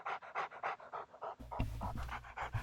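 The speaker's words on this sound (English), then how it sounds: "The dog, Susie." A dog pants in quick, steady rhythmic breaths, close and fairly loud, with a low rumbling background coming in partway through.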